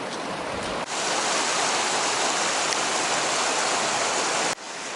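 Steady broadband rush of Mission Creek flowing close by, loud and continuous, with a brief dip near the start and another near the end.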